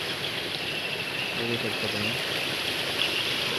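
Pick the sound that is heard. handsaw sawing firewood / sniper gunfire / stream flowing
stream flowing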